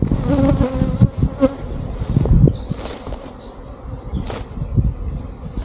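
Bees buzz loudly and close around a farm hive, a dense continuous drone with individual insects rising and fading as they fly past, no talking.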